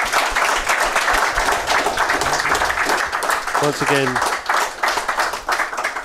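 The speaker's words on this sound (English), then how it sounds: "So a round of applause for that." An audience applauds at the end of a live London medical talk event, a dense steady clatter of many hands running throughout while a voice speaks over it.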